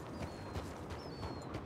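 Hooves of a horse clip-clopping in a western video game, a steady rhythmic trot over low ambient game sound, with faint bird-like whistles overhead.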